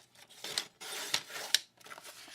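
Sheet of paper cut down by an inch for a folio card, a few quiet scratchy rasping strokes close by.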